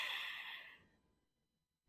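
A single slow breath, airy and close, fading out over a couple of seconds, followed by near silence.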